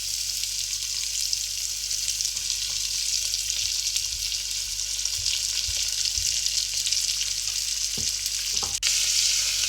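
Chopped onions frying in hot oil with cumin and mustard seeds give a steady, close sizzle throughout, with a few soft stirring knocks and no talk.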